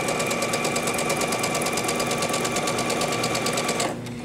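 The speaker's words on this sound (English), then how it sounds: "without doing any back stitching, I'm just going to start sewing on the line." A sewing machine runs steadily, stitching polyester thread through a quilt block with a fast, even mechanical whir and rapid needle rhythm, close and loud, then stops abruptly near the end.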